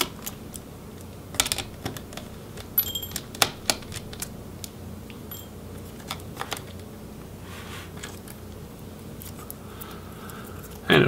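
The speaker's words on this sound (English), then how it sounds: "And then we can go ahead and remove the screws for the in-out board." Small screws being removed from the in-out board of a Dell Inspiron 14 7460 laptop, with scattered light clicks and taps of the screwdriver and parts against the chassis, close up and fairly quiet.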